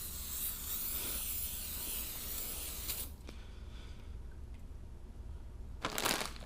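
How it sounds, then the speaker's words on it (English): Brake cleaner sprayed from an aerosol can onto the flywheel and clutch pressure plate of a 2002-06 MINI Cooper S during clutch replacement, a steady close hiss for about three seconds, then quieter, with a short burst near the end. "Now we'll spray some brake cleaner on there to get all the gunk off."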